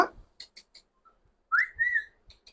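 A tame talking myna bird whistles in short chirpy bursts, then a longer rising and sliding whistle, close and clear against a quiet background.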